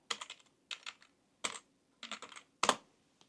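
Close-up keystrokes on a computer keyboard as a Linux terminal command is typed, coming in five quick clusters of taps separated by short pauses.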